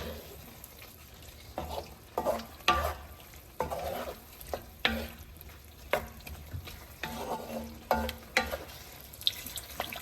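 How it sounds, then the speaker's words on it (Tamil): Potatoes sizzle softly in a pan for Bengali aloo dum while a spoon scrapes and stirs them in a steady rhythm of close, repeated strokes over a faint continuous frying hiss. "ஃப்ரை பண்ணினா ஆலு உருளைக்கிழங்கு போட்டு நல்லா கலரணும். எல்லாம் நல்லா மிக்ஸ் பண்ணணும்."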